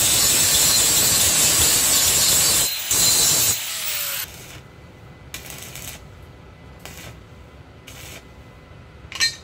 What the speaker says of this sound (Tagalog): So, grinder pa natin yan para mas makinis.